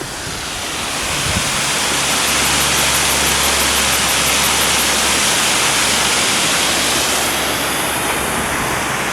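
Bridal Veil waterfall at Leura in the Blue Mountains, a steady broadband rush of falling water heard from a cliff-top lookout, loud and continuous throughout with a low hum briefly underneath.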